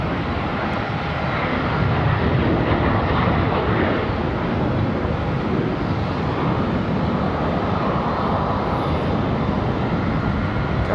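A Frontier airliner roars at Charlotte Douglas International Airport, a loud, continuous broadband jet engine rumble that holds steady throughout with no talk.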